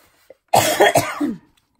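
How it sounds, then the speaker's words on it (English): One short, harsh cough bursts out close by in a quiet room, with a brief click just before it. "when I start talking with you guys, I get a cough"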